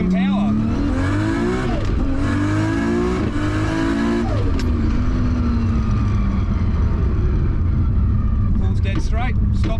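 A Nissan Skyline GT-R, just fitted with a bump steer adjustment, accelerates hard under power, its loud engine note climbing through several rising gear pulls before easing off, with faint tire noise at the end.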